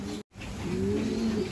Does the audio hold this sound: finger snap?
no